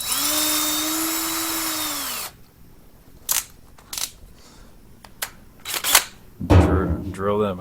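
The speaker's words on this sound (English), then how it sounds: "Drill them out." A power drill whirs steadily for about two seconds drilling small holes during a fuel system install on a vintage Plymouth, then cuts off, followed by scattered clicks and handling noises and a brief voice at the end.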